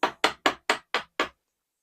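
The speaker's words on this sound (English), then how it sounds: "So I'm going to use my joiner's mallet, just the big wooden one." A big wooden joiner's mallet strikes a chisel six times in quick, even succession, each blow a sharp, close, woody knock that fades quickly before a short silence.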